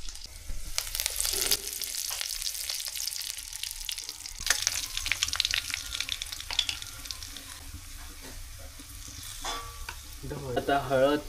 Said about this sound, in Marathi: तर फोडणीला तेल, तर लसूण, त्याच्यानंतर कढीपत्ता आणि मसाला या सर्व गोष्टी आपल्याला टाकायच्या आहेत.